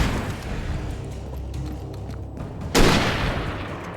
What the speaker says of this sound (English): I wasted a single shot on that guy.